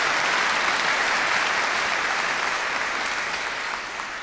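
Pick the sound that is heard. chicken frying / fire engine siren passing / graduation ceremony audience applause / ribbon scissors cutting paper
graduation ceremony audience applause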